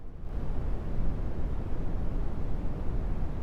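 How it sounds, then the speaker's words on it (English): Steady brown noise plays from a phone speaker, a deep, dense rumbling hiss that holds constant and fairly loud from start to finish, with no voices. "Brown noise."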